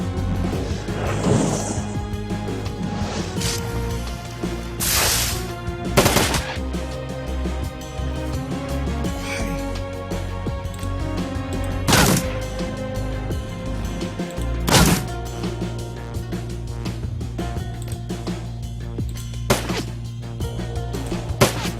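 Turrets in the Shadowrun Dragonfall video game open fire: sharp, loud gunshot-like bursts and crashes, some isolated and some clustered, over a steady game soundtrack, with no talking.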